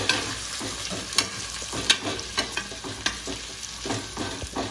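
A spoon stirs prawn biryani in a pot, scraping and clinking against the metal at irregular intervals over a low steady sizzle, close and fairly quiet, with no talking.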